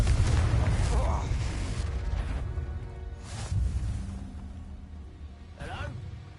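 A Confringo fire spell explodes in Hogwarts Legacy with deep booms and whooshing bursts, mixed under a spoken voice.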